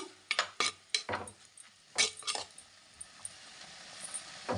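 Ivy gourd fry being stirred in a pan: a spoon scrapes and clinks against metal in quick strokes, then softer taps and a faint sizzle as the stirring slows.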